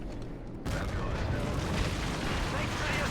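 Call of Duty: Modern Warfare 3 combat with 40mm cannon fire rumbling as a dense, continuous roar of blasts and heavy battlefield noise.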